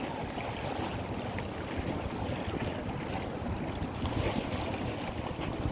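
Strong wind buffets the microphone over a steady wash of waves, a constant loud roar with no voices.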